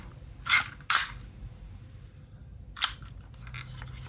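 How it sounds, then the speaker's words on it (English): A 3D-printed DL-44 blaster gives a few sharp plastic clicks and clacks as its bolt is cocked and pulled back, two close together and one more a moment later, crisp and near. "safety down, cock it. Okay, you can even pull back the bolt."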